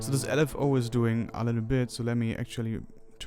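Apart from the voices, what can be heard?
No everyday noise stands out behind the speech.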